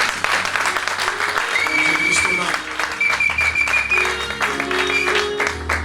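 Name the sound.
church congregation applauding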